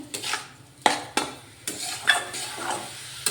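A spoon stirs grated coconut mixed with sugar in a pan as filling for puli pitha, giving soft scraping and a few sharp clinks against the pan at an uneven pace.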